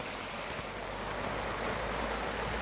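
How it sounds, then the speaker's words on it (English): Heavy rain drumming steadily on a tent during a storm, a dense close hiss with no pauses and no voices. "You can hear the rain such as it is. It's quite heavy."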